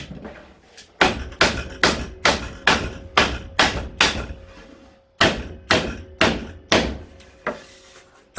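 Hammer striking a piece of wood in a workshop, a run of loud, evenly spaced blows, a brief pause, then another quick series, close and alone with no talk.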